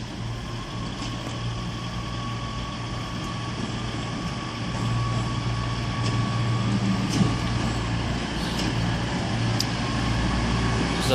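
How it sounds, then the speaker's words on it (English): A delayed CrossCountry four-coach train, likely a Class 220, rumbles into Exeter St David's station with a steady, continuous engine drone and faint clanks over a low hum. "delayed cross-country service to Paynton now coming in"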